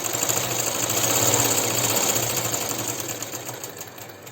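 A sewing machine stitches an elastic waist on pants, its motor running in a steady fast whirring rattle that swells slightly and then eases off, loud and close.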